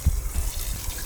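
Water gushes from a campsite tap as a container fills in cool Minnesota weather, a brief, steady rushing splash heard close with no voices.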